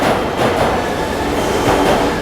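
A subway train running underground produces a loud, continuous rumble with rolling wheel and track noise that stays close and steady throughout, with no one talking.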